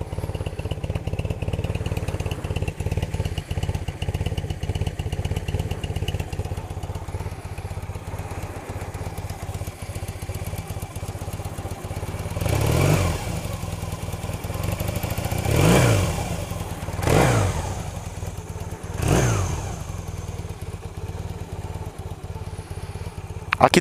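A motorcycle engine idles with a low, steady rumble, then revs up sharply several times in short bursts, moderately loud and close, with no talking.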